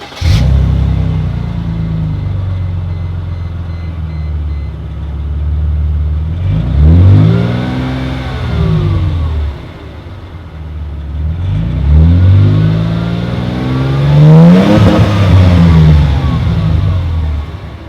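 A Mercedes W202 car engine with an aftermarket muffler, otherwise stock, idles with a low rumble, then revs to 4,000 RPM twice in long rising and falling sweeps, a deep but fairly subdued exhaust note, close by.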